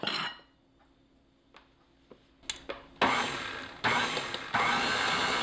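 A stand mixer mixing dry ingredients into peanut butter cookie batter: a few light clinks and taps, then the motor starts in repeated loud whirring bursts that run on steadily.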